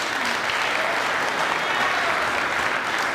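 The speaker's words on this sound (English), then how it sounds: "Please, let's give them a round of applause." At a youth citizen assembly, the audience delivers loud, dense, sustained applause that stays steady and close for the whole stretch.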